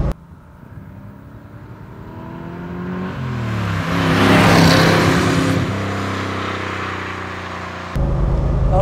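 A 1972 De Tomaso Pantera with a 5.8-litre, 350 hp V8 driving past, its engine note rising loud and steady as the revs climb, then settling and revving again; no voices.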